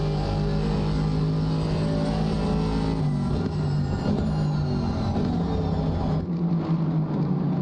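Mercedes-AMG GT4 race cars lap Silverstone in a sim racing game, their engines forming a loud, steady, continuous drone that holds for several seconds with no voices over it.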